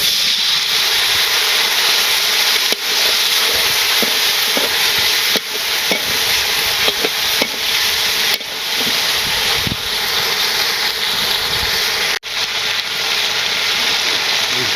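A vegetable fry sizzles and hisses steadily in a hot pan in a village kitchen, loud and continuous, with occasional stirring scrapes and brief dips as spice powder goes in.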